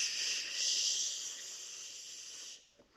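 A child imitates the sound of wind with a sustained, breathy shushing noise that swells slightly, holds steady for about two and a half seconds, then stops.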